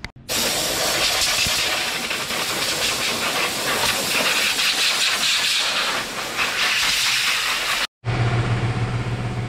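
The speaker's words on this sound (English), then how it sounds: "I'm going to take the air hose and blow it off real quick" Compressed air hisses loudly and continuously from an air hose blasting dust off an engine, with one brief pause near the end before the blast resumes.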